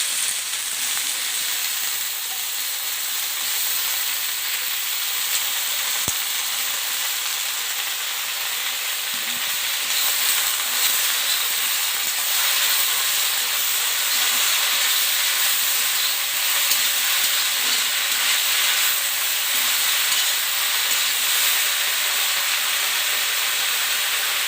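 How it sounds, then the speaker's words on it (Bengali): Chopped Malabar spinach sizzles and steams in a hot pan during a small-fish curry, a steady broad hiss running throughout with faint stirring, no voices. "আমি এখন কেটে রাখা পুঁই শাকগুলো দিয়ে দেবো।"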